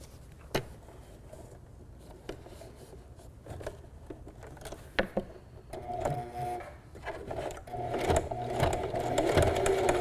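A domestic sewing machine running a zigzag stitch over fabric, a light mechanical whirring that starts quietly after a few soft clicks and grows steadier and louder in the second half.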